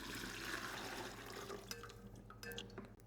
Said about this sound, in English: I'll take my big ladle here and attempt to pour that in here.